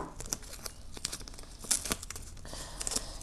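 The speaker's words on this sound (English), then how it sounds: "I'm actually going to tape that part down." Masking tape is torn and crinkled while taping down cords for a macrame bracelet, with close scratchy rips and rustles in quick irregular bursts and no speech.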